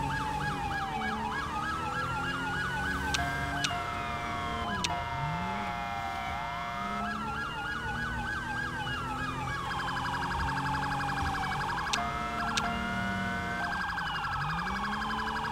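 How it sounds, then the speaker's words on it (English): Two synthetic police sirens in Grand Theft Auto V overlap continuously, one wailing up and down while the other alternates pitches, loud and steady with occasional sharp clicks. "so we have dual sirens"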